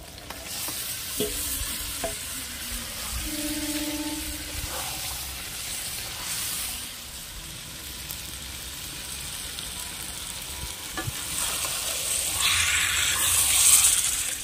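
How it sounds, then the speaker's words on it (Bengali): Marinated mutton fries and is stirred in a pan for a duck bungalow mutton curry: close scraping and stirring over a continuous sizzle, with a louder hissing surge near the end. "ভালো করে মাংসটাকে আমি কষিয়ে নেব"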